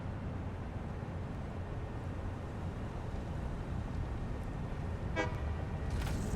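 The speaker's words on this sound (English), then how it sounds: "I love it when it honks when it goes back." A vehicle in the game Satisfactory gives a short rapid honk while reversing, a clear toot near the end over a steady low engine rumble.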